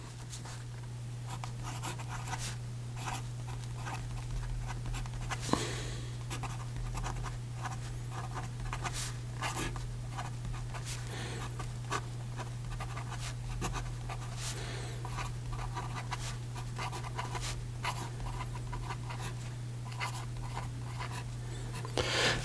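A Lamy AL Star fountain pen with a fine nib writes on paper, giving a soft continuous scratching with short strokes and pauses, quiet and close, over a steady low electrical hum.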